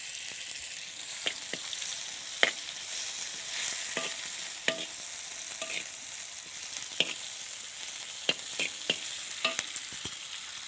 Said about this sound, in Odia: ବର୍ତ୍ତମାନ ଏଥିରେ ପକାଇଦେବି ଯେଉଁ କାଟିକି ରଖିଥିବା ପିଆଜଟା।